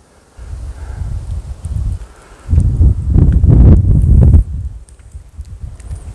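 Wind howling up from a valley at the Matheran hill station, a loud, low roaring rush that swells into a stronger gust midway and then eases back, with no voices.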